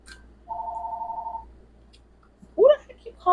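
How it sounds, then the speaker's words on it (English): A phone rings once with a steady electronic tone lasting about a second, fairly quiet in a room, before a voice starts speaking. "Who the heck keep calling this phone?"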